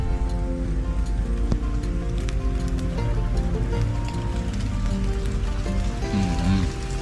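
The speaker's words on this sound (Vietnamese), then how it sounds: "Giờ thì đang muốn mưa rồi" Rain falls outdoors at a survival fishing and foraging spot, a dense steady patter of drops on surfaces, fairly loud and continuous with a low rumble beneath.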